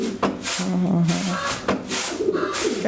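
Fancy pigeons for sale coo in low, throaty repeated rolls from close by, with a voice talking faintly underneath.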